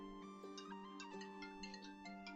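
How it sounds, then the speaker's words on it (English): Phone ringtone playing on its own, a tinkling melodic electronic chime with steady sustained tones and quick note flourishes, fairly quiet. "This is my ringtone."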